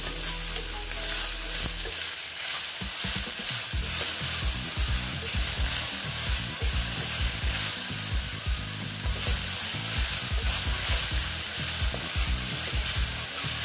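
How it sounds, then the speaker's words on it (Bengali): Taro stolons (kochur loti) fry in a pan with turmeric and salt, a steady close sizzle of hot oil with repeated scraping and stirring knocks throughout, loud and with no talking. "দেখো মোটামুটি আমার লতিটা ভাজা হয়ে এসছে"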